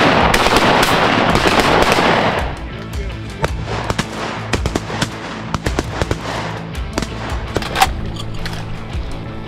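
Shotguns fire during a morning duck hunt, starting with a dense, loud volley of overlapping blasts that gives way to scattered single shots and short clusters.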